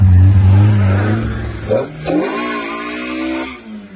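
A VAZ 2107 with a 1.8 naturally aspirated engine and rear-wheel drive launches against a front-wheel-drive Malibu 2 Stage 2 turbo of 290 hp at a drag race start, with loud, close engine roar climbing in pitch as the cars accelerate hard.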